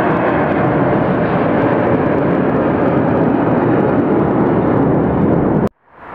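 A jet airliner roars loud and steady as it takes off at Atlanta Hartsfield airport, a broad continuous rumble close to the listener that ends abruptly.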